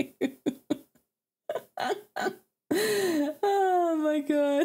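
A person coughs several times in quick bursts, close and fairly loud, followed by breathy groaning vocal sounds.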